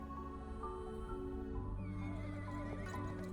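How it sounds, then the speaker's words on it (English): A horse gives a loud, drawn-out neigh, the whinny sliding and wavering in pitch for several seconds, close and clear with little else around it. "The horse answers with a loud neigh."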